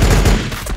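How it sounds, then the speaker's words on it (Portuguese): Laser pistol fire in Warhammer 40k Battlesector, a brief burst of sharp, loud shots fired in quick succession, close and alone without talk. "Com a laser pistol."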